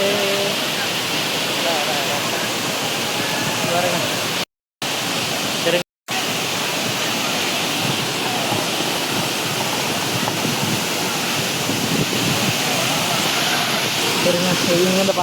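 Hogenakkal Falls waterfall roaring as a broad, steady rush of water, loud and continuous, with two brief dropouts and faint voices mixed into the wash.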